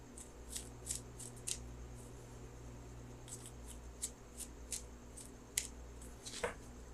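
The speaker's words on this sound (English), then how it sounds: "So I'm going to shuffle for that outcome card." Tarot cards are riffled and snapped in short bursts, a series of crisp shuffles with pauses between them, close up and quiet, without speech.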